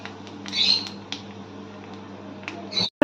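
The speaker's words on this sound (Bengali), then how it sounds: "এতে দিয়ে দিচ্ছি কালো জিরে আর একটা শুকনো লঙ্কা আমি টুকরো টুকরো করে নিয়েছি। ভালো করে এটাকে প্রথমে আমরা ভেজে নেব।" Black cumin seeds and pieces of dried red chilli frying in hot oil, a steady close sizzle and patter with a few sharp crackles and pops over a low hum.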